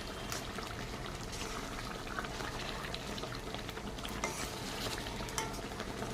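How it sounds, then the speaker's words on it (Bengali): Omelette curry in a pan being gently stirred after a pinch of garam masala goes in, a soft continuous bubbling sizzle with light scraping strokes and faint clinks. "দিয়ে আমি আলতু হাতে নেড়ে দেবো"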